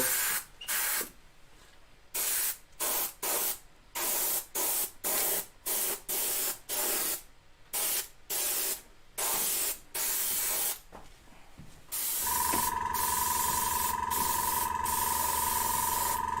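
An airbrush sprays paint onto a waterfall diorama in short, regular hissing bursts. About twelve seconds in, it switches to one continuous spray with a steady tonal whine beneath the hiss.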